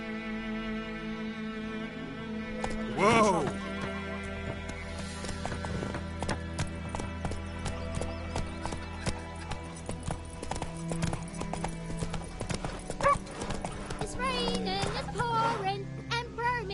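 Roach, a horse in The Witcher 3, runs with quick clip-clopping hooves under game music and sound effects, with a short neigh early on.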